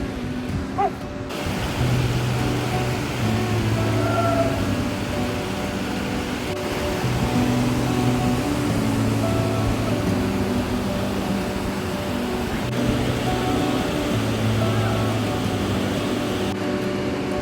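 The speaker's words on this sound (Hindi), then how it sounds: "पूरा नीचे तक ऐसा रिवर के फ्लो करेगा। काफ़ी सही झरना है यार।" A waterfall and river on the Kheerganga trek in Himachal make a steady, broad rushing roar that stays loud and constant throughout, with no voices over it.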